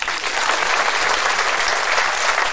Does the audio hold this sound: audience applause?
yes